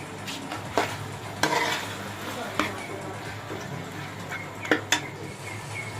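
Chicken stir-fried in cooking oil for bhuna chicken gives a low sizzle under sharp spoon scrapes and clanks against the pan, several distinct knocks spread across the clip, fairly close.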